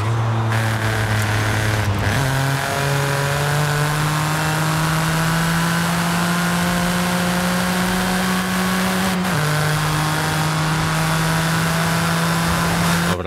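A 2021 Toyota Yaris GR in Forza Horizon 5 drives with a loud, steady engine drone whose pitch climbs slowly, dropping briefly at two gear changes, then rising again, with no talk over it.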